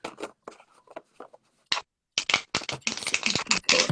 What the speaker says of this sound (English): We'll start shuffling while he's thinking of what his question is